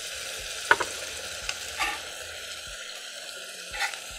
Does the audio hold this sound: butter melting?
yes